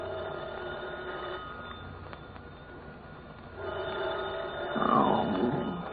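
An old-fashioned telephone rings in a 1940s radio detective drama, its bell sounding through a narrow, muffled broadcast recording that grows louder toward the end, with no one speaking.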